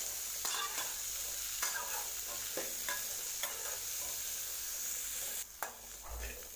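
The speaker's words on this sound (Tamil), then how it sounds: "இப்போ நல்லா இதை கலந்து விடுங்க." Chickpeas with salt are stirred in a hot pan, a spoon scraping and clinking rhythmically against the metal over a continuous sizzle, close and clear with no speech.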